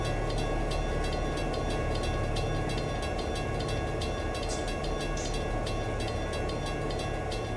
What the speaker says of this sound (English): There's my train right now. The one I set to AI is leaving Hobart for LAC.